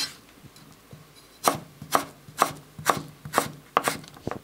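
Knife chopping crisp vegetables on a cutting board, about seven steady crunchy cuts at an even rhythm, close and clear over quiet room background.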